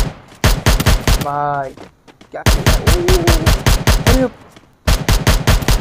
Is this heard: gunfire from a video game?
yes